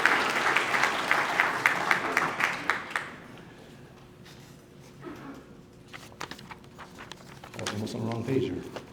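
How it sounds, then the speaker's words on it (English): At a California Wrestling Hall of Fame awards evening, a crowd applauds the official photographer with a few seconds of moderate clapping that fades, followed by quieter room sounds and someone talking. "a round of applause"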